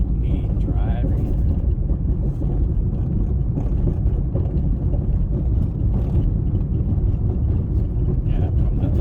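Steady low road rumble and engine drone inside a car being driven on city streets, continuous and moderately loud throughout, with faint background sounds.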